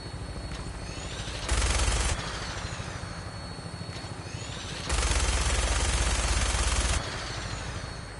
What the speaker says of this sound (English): That minigun in front of you is loaded and ready to fire.